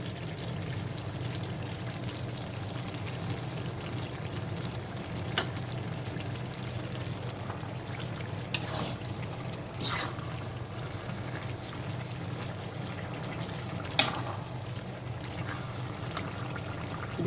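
Finely ground panch phoron with extra mustard seed frying in hot oil alongside mango for a pickle, a faint, even low sizzle running throughout with a few soft taps and scrapes now and then.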